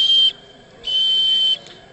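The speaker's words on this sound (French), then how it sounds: "Alors, le sifflet." Two sustained, steady high-pitched whistle blasts from the steam whistle of a radio-controlled model steam trawler, a short toot followed by a longer one, fairly close and clear with no talking.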